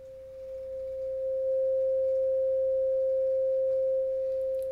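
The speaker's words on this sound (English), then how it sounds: "listen to the sound frequency 528" A pure 528 Hz sine tone holds steady and unbroken, swelling slightly in level before leveling off, clean and alone.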